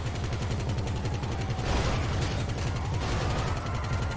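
GTA 5 gunfire rattles in rapid, steady automatic bursts, a dense continuous clatter of shots that runs the whole time over an engine-like drone.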